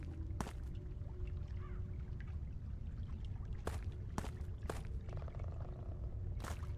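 Water splashes and trickles in the video game Witch Hunt, a soft continuous pouring burble with a few sharp clicks and brief bursts over a faint low background.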